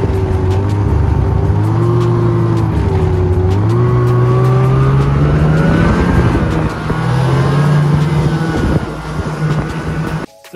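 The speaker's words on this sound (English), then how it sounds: "Today we're about to take these snowmobiles out off-road." Snowmobile engines drone loudly while riding off-road, the pitch rising and falling as the throttle opens and eases, close and continuous throughout.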